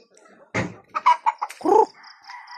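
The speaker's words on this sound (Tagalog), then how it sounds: "Ayan guys, mga manok." Chickens clucking and squawking close by, several short bursts followed by a longer call, with a faint rooster-like crow trailing off at the end.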